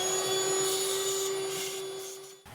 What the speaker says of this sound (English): Let me get a vacuum cleaner. We're just gonna suck up everything we can.